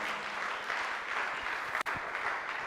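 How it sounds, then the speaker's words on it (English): A conference audience applauds a speaker with dense, steady clapping throughout, broken by a brief dip near the end before continuing. "Let's give him another round of applause,"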